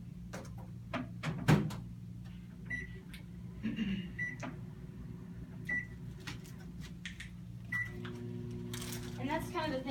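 A microwave oven hums steadily through the clip, melting chocolate, with intermittent clicks and clatter and a few short beeps, and a louder clunk near the end.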